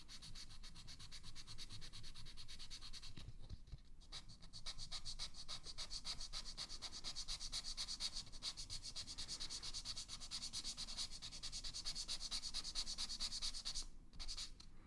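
Close, steady rubbing of sandpaper across an acrylic crystal on a Timex Marlin watch, a continuous dry scratchy hiss with brief pauses near the start and end.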